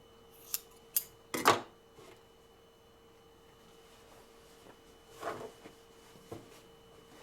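Scissors snip the tip off a thread on a quilted table topper, producing a few sharp close clicks and a short cluster of cuts, followed later by soft rustling and handling sounds in a quiet room.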